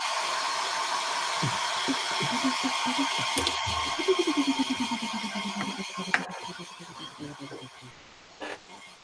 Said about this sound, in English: more hair drying, sorry